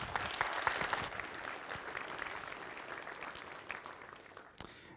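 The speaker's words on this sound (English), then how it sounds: "Big round of applause." Steady audience applause for a speaker at a programming conference, sustained clapping from a room-sized crowd, fairly faint and fading toward the end.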